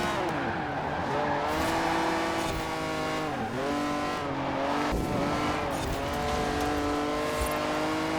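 Engine of a Fiat X1/9 racing in Forza Horizon 4, a loud continuous rev whose pitch climbs and drops through gear changes and braking into corners, with tyre squeal mixed in, heard alone without speech.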